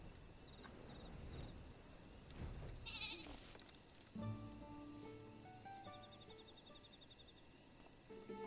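A sheep-shaped riding mount in Final Fantasy XIV gives a wavering bleat in the middle of game music and ambient chimes, a single short call heard at moderate volume beneath the soundtrack.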